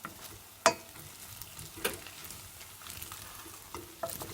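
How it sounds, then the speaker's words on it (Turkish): Cooked beetroot vermicelli pilaf stirred in a pot with the heat off, giving a few sparse scrapes and clinks of a utensil against the pot, one sharp knock early on, quiet in between. "Şöyle karıştırıyorum."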